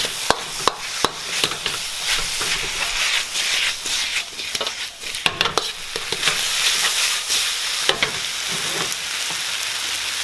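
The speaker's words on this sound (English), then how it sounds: "to this we're going to add our Shaoxing wine and our sesame oil. Give that a further stir fry." Beef stir-frying over high heat with ginger, shallots, Shaoxing wine and sesame oil, a loud continuous sizzle with rapid scraping and tossing clatters from the wok, close up and without talk.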